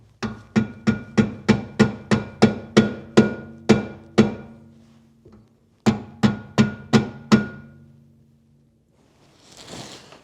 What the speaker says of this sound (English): from the back side of the car or the back side of the caliper, we're just gonna hammer these in